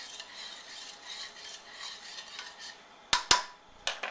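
A utensil stirs a lemon-flavored sweet and sour sauce for lemon chicken in a bowl or pot. Soft, continuous swirling scrapes run quietly at first, then a few sharp metallic clinks of spoon against the container close the stirring.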